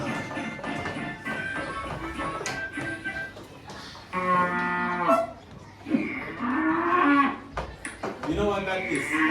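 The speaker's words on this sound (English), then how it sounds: "What is that? Cow." Cow mooing played back through a small Bluetooth speaker in a classroom, several drawn-out moos with children's and a teacher's voices talking around them.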